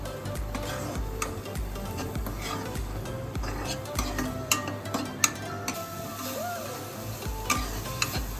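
Onions frying in a pan until lightly browned for veg Hyderabadi biryani, a steady close sizzle broken by frequent small clicks and scrapes of a stirring spoon.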